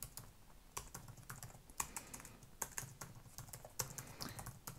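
Rapid typing on a computer keyboard, steady irregular key taps with occasional louder strokes, close and alone with no voices.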